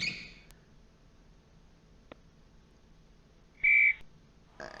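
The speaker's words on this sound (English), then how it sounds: "There's the whistle." Referee whistle in a PC basketball video game, heard as a short, shrill tone sounding once over a quiet background, with a faint brief tone at the start and another at the end.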